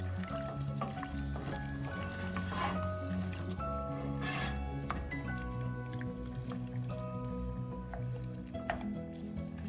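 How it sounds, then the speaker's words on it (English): Water poured into a pot of turkey chili soup with kidney beans, a soft continuous trickling and splashing with faint drips, close and fairly quiet, with no talking. "Add some water to it. I have about 25 ounces of water here."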